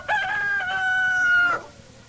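A rooster crows once in a long, loud, drawn-out cock-a-doodle-doo lasting about a second and a half, close up and clear, then fades into quiet.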